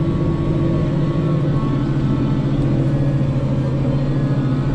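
A Zetor Crystal 170HD tractor pulling a Runner cultivator during field work, its engine a loud, steady low rumble and drone heard from inside the cab, unbroken for the whole stretch.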